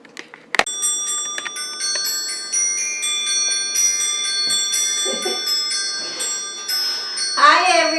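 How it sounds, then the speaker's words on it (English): Small jingle bells worn on the body shake in a steady, bright shimmer that runs nearly throughout, close and fairly loud, with a sharp knock near the start and brief voices talking over the jingling. "I put these bells on just for fun"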